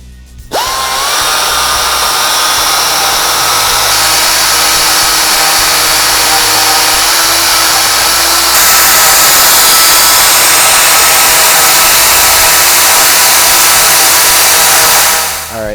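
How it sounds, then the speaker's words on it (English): A power tool cuts three slots into a stuck inner bearing race on a Polaris RZR UTV hub, working slowly from the top down; a loud, steady high-pitched whine runs nearly continuously, without talk. "we're gonna go ahead and cut 3 slots in it"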